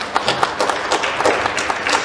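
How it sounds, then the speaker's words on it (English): A small group claps in a brisk, uneven patter, fairly close and loud, with no voices over it. "let's give her a round of applause."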